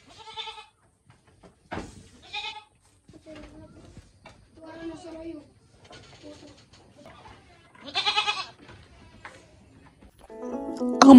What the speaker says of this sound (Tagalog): at sa kabilang bahagi ng farm, may isang malaking kamalig na puno ng mga kambing